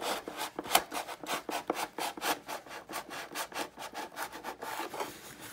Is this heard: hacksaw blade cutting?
yes